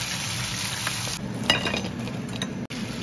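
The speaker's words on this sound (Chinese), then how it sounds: "把这个茄夹七成油温，再过一次油就可以了" Eggplant sandwiches deep-frying in hot oil, a steady loud sizzle with faint clinks of utensils and a brief clatter partway through.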